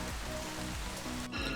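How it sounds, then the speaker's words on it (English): Rain falls steadily in Ninh Binh, Vietnam, a continuous hiss of drops pattering on surfaces nearby, with no speech. "it started raining"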